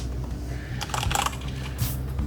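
Keys clack on a Corsair mechanical keyboard being tried out in a keyboard test shop in Yongsan, with a quick flurry of close, crisp clicks over a low background hum of the store.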